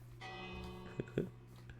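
A bell struck in Minecraft gives a faint, short metallic ring that hangs with a steady tone, with two soft hit transients near the end, no talk.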